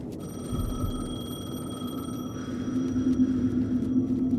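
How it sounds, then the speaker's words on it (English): Payphone ringing in the Alan Wake 2 video game, a steady electronic ring tone held over a low rumbling ambience, fairly close and continuous without talk. "The payphone was ringing."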